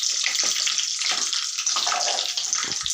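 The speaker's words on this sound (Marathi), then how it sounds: "असा कढीपत्त्याचा आवाज आला पाहिजे, म्हणजे कढीपत्त्याचा रस तेलामध्ये उतरतो" Curry leaves dropped into hot oil just after cumin, a loud, dense, continuous crackling sizzle with scattered pops, close and alone without talk.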